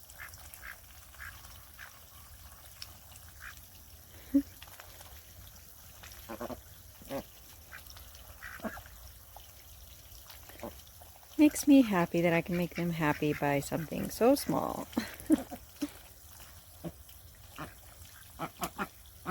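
Pet ducks splash and play in freshly running water in the evening, giving off scattered quacks and a louder burst of excited quacking midway, heard at modest volume while someone talks quietly over them.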